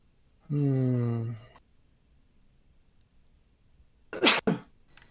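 A brief harmonic vocal sound, then after a pause a single sharp, close sneeze bursts out, followed by a quick short tail.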